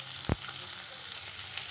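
A chopped large onion sizzles in two teaspoons of hot oil, a steady close hiss with a single sharp knock near the start as the pieces go in.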